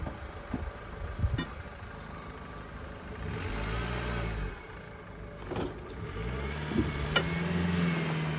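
Dacia Duster engine revving in bursts while towing another vehicle with a rope, the low rumble rising and falling near by over outdoor background noise.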